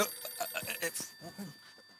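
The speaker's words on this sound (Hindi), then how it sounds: "उन्हीं का फोन है. उठा उठा." A telephone rings in short electronic trills, fairly faint, with a few soft background sounds between the rings.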